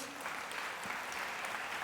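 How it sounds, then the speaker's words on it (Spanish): A church congregation at an evangelical service applauds in a steady, continuous wash of many hands, sustained and fairly distant, with faint voices beneath it. "Démosle un aplauso a ese Jesús."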